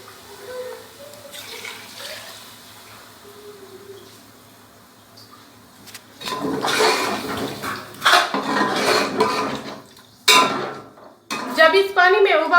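Water pours into a cooking pot for chicken pulao, a splashing, sloshing stream with clattering pot and utensil sounds, close and fairly loud, following quieter kitchen noise.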